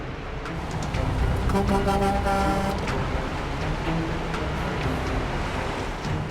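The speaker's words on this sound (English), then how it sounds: "Sounds like there's a truck coming. I hear a semi." A semi truck approaching on a logging road, its engine drone and rumble building and holding steady with a tonal hum over a broad rushing noise, fairly loud and close.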